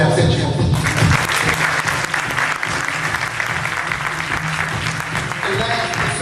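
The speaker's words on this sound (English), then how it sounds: "Now he's not here, but we can applaud him in that section" An audience at a poetry performance breaks into loud, sustained applause, thick continuous clapping with some crowd noise that holds steady for the full six seconds.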